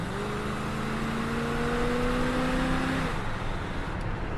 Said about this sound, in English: I'm gonna go ahead and let it downshift.